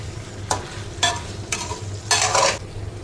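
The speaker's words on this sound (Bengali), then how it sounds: "মূলা আর মাংস আবারও কষতে থাকুক" Radish and meat sautéed in a pan for curry, four rhythmic scraping stir strokes about half a second apart over a low steady sizzle, close and clear, no talk.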